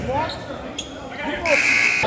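A basketball bounces on a gym floor during a high school girls' game, a quick dull thump under a commentator's continuous talk and crowd noise, followed by a buzzer-like tone.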